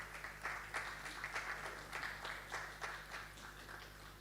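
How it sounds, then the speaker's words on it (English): Audience at a youth policy dialogue launch clapping to welcome a panelist onto the stage, a fairly quiet, uneven patter of hands with distinct individual claps in a modest indoor hall. "Please, let's clap to welcome her on stage."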